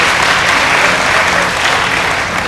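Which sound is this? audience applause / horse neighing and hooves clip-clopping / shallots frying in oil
audience applause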